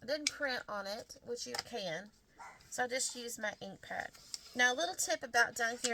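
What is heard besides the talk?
No distinct noise like a dog, phone or traffic.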